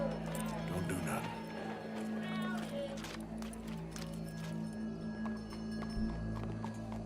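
Horse hooves clip-clop steadily in Red Dead Redemption 2, set against a constant low hum and background game ambience while people talk over it.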